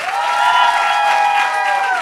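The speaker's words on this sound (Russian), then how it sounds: "ваши аплодисменты" A studio audience at a KVN-style comedy show applauds loudly and steadily for about two seconds, with sustained whistles or cheering tones riding over the clapping.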